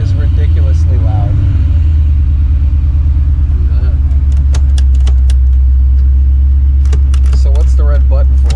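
Supercharged Foxbody Mustang with a Terminator swap and VMP blower, its intake roaring loudly from inside the cabin as a steady, heavy engine rumble under occasional talk.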